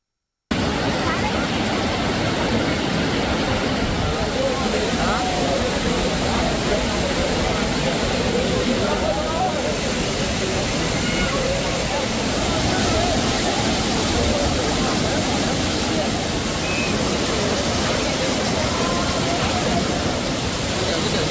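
Courtallam's main waterfall in Tamil Nadu running with increased flow, a steady, loud, broadband roar of falling water that continues unbroken throughout with no voices.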